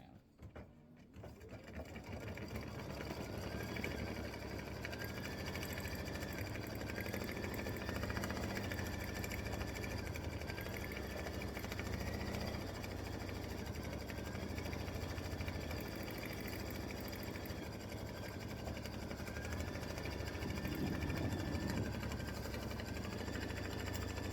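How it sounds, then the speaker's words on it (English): An embroidery machine stitches a red satin appliqué border on a Valentine bear paper towel holder design, a continuous fast mechanical whirring and needle chatter that runs steadily and close for the whole stretch after a brief start. "Color stop number 25 is going to stitch the red satin all the way around."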